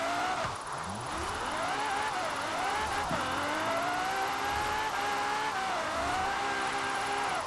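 Tuned drift car in the Forza Horizon 4 racing game, engine revving and wavering steadily while the tires squeal and slide through a long continuous drift.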